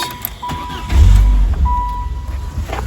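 A Saturn car's engine cranks briefly and catches, settling into a steady idle with a faint high whine, close to the microphone and without talk.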